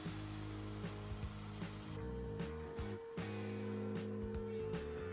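A planer drones in steady, tonal passes while smoothing walnut boards for an end-grain cutting board, with a brief drop in pitch midway as the stock feeds through, loud and close with no talking.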